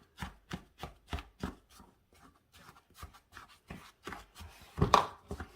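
A spoon works through a cake crumble mixture in a bowl, making a run of quick, distinct scraping strokes close up, then softer uneven stirring and a sharper knock near the end.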